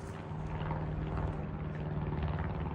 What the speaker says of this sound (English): We've got a plane flying over.